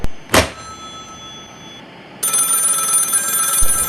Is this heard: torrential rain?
no